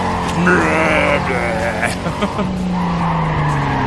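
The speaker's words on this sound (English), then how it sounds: "My car sounds so gnarly. Just like the way it accelerates out of turns." A racing car engine in Need for Speed Carbon roars and revs steadily up through gears, with tire squeal and engine pitch rising and dropping, loud and continuous.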